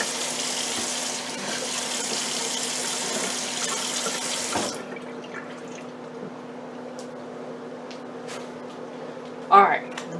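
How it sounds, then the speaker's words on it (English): Tap water rushes steadily into a regular measuring cup for a bread machine recipe for about four and a half seconds, then cuts off, leaving a quiet room and a brief knock near the end. "We're just going to use a regular measuring cup for the water."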